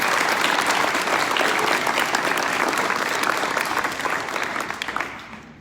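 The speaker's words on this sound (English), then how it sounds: "So let's give these athletes a round of applause." A graduation ceremony audience gives a long, loud, dense round of applause for athletes, steady for several seconds before thinning toward the end.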